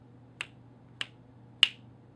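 Three crisp finger snaps, close and evenly spaced, sound over a faint low hum in a song.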